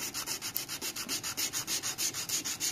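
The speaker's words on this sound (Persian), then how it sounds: "ما از سنباده با دونه بندی 80 اول استفاده میکنیم" An 80-grit sandpaper works over a wooden knife handle in quick, steady back-and-forth strokes, a close, even rasping that pulses at a regular rhythm with no voices.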